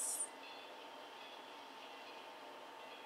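A train from the 1949 film Beyond the Forest rumbles faintly and steadily in the distance, with a brief high squeal at the very start before settling into a low, continuous rolling noise.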